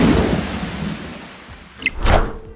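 A storm card effect in the Marvel Snap video game brings steady rain and rumbling thunder, with a loud crackling thunder burst near the end, all close and fairly loud with no talking.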